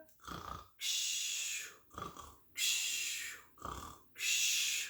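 A voice imitates snoring three times, each a rough inhaled snort followed by a long, hissing exhale, in a slow, even rhythm.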